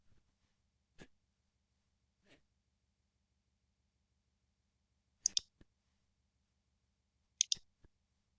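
Computer mouse clicks while working in Google Docs, several sharp, quiet clicks spaced irregularly across near-silence, some in quick pairs.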